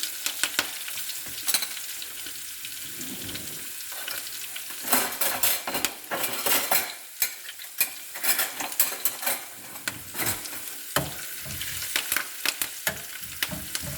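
Ginger, garlic, curry leaves and chili frying in hot oil, with a steady sizzle broken by scraping and clinking of a spoon stirring in the pan, close and loud, no voices.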